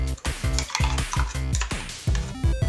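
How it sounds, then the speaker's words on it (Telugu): Repeated metallic scraping and clinking as ground raw coconut chutney is spooned from a mixer jar into a cup, a quick close run of utensil knocks with no talk. "ఈ విధంగా ఒక కప్లోకి ట్రాన్స్ఫర్ చేసుకోవాలి"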